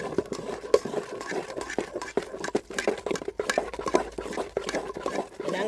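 Dosa batter stirred steadily in one direction in a bowl, producing continuous wet, scraping swishes with a quick, repeated rhythm, close and moderately loud, without speech.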